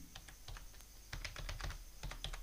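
A password is typed on a computer keyboard: soft, irregular keystroke clicks in quick bursts with short pauses, close by and quiet, with no talk.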